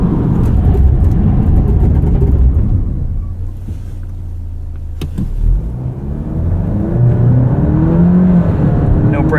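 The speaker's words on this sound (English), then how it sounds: "Let's do a quick 0 to 60." A 2023 Alfa Romeo Giulia Estrema with a 2-liter turbo accelerates hard from a roll. The engine note climbs through the gears with a brief dip at a shift, then rises again loudly inside the cabin.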